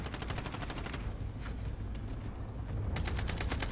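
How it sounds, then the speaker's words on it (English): Rapid automatic gunfire crackles in Call of Duty Warzone, dense bursts of shots rattling close and loud over a continuous rumbling game soundscape, with a few heavier reports standing out. "There's some gunfire there."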